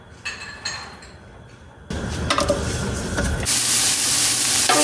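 Kroeung paste hits hot oil in a pan for a Khmer beef and pork rib soup, a quiet start that swells into a loud, steady frying hiss with a few clinks, and no voices.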